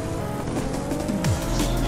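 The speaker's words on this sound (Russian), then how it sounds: "Аж мотор отключается." Racing car engine in the video game GRIP loses power after an EMP, a close mechanical drone winding downward in pitch over under two seconds.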